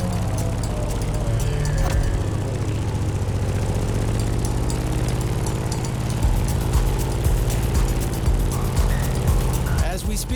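A Grumman F8F Bearcat propeller engine in The Crew Motorfest drones steadily and loudly, a constant buzzing hum with a slight surge near the end, under occasional talk.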